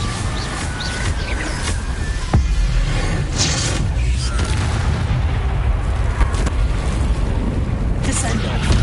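Confringo and Bombarda spell blasts in Hogwarts Legacy go off as a dense string of booming impacts and sharp cracks over constant game clatter, with a voice talking through the fight.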